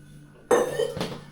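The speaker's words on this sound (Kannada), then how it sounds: "ಈಗ ಮ್ಯಾಗಿ ಕಟ್ ಮಾಡಿ ಹಾಕೋಣದು" Maggi instant noodles broken into a cooking pot at home, a sudden close crunch against the metal with a ringing clink, then a second short knock a moment later.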